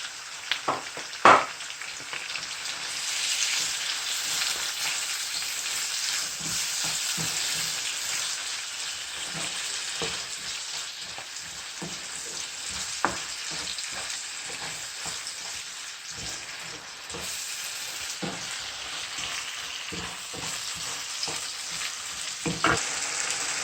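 Mixed pepper frying in hot oil for a prawn sauce, a steady close sizzle throughout with occasional stirring clatter and scrapes, no voices.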